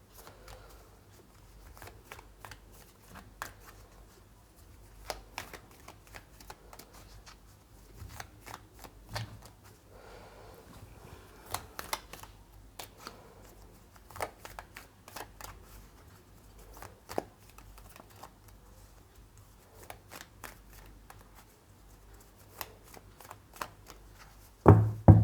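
Tarot cards being shuffled and drawn by hand, a long run of crisp riffling and snapping bursts with short pauses between, close and alone with no talking.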